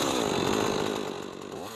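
A chainsaw carving wood sculptures from old tree stumps roars loudly and steadily at close range, its engine pitch dipping slightly near the end.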